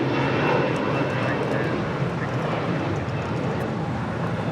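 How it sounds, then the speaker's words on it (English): A Korean Air airliner, Flight 11 from Seoul, landing at LAX, heard as a steady, broad roar of jet engines that holds evenly throughout, with faint talk in the background. "That was Korean Air Flight 11 coming in from Seoul."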